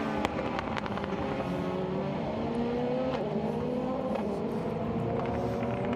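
LMP2 prototype race cars lapping the Sepang circuit during the Asian Le Mans Series 4 Hours, engines roaring steadily with overlapping pitch sweeps as cars pass and change gear, a continuous loud mix of several machines.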